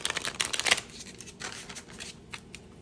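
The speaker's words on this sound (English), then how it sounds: "So we're gonna shuffle these up." Playing cards shuffled up close for a card game, a quick flurry of riffling flaps followed by softer card handling and taps, with no talking.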